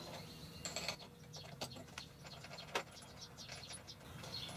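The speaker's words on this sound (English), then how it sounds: "now I'm using the 19 millimeter wrench to loosen up the center bolt" A 19 mm wrench loosens the center bolt on a CNC milling machine head, giving faint, close metallic clicks and ratchet-like ticks scattered over a quiet workshop background, with no speech.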